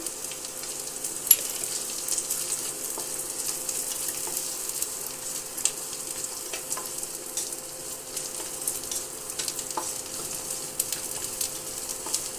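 Cumin seeds roasting in a pan over a low flame give a steady, soft sizzle and crackle with a few faint pops, close and even throughout, with no talking.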